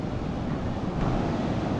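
Wind whips across the microphone as big ocean waves churn and spray nearby, a dense unbroken rush of surf with a slight swell near the end.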